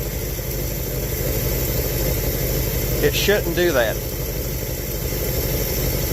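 Engine of a 1967 Chevelle idling steadily while flooding from fuel boiling in the carburetor, a constant close low rumble with someone speaking briefly over it.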